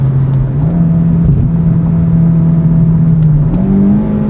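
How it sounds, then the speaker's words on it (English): Steady, loud engine drone from a 2009 Honda Civic Si while driving, heard from inside the car, with the pitch stepping up slightly as revs rise between shifts. "It's easy to rev match. It loves to rev."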